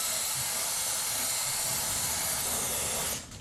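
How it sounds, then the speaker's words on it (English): Chain cleaner sprays onto a motorcycle chain and sprocket in one continuous loud aerosol hiss that stops abruptly near the end. "I'm going to apply more chain cleaner, but I'm also going to focus on cleaning the sprocket at the same time."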